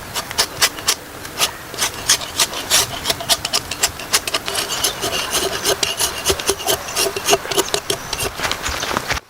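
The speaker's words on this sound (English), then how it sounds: "Any excess wood that extends beyond the roof line is neatly trimmed off." A hand saw trims excess log wood at the roof line of a log cabin being built in the forest, giving loud, close, rhythmic rasping strokes in a steady series with no talk.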